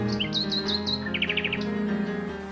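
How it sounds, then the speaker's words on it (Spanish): A nightingale sings close by, delivering quick bursts of high chirps and rapid repeated trills over a faint low background hum. No one speaks. "el ruiseñor"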